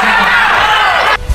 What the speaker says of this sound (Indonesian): Gemuruh sorak-sorai penonton menggema memadati ballroom The Winda Hotel Lubuk Linggau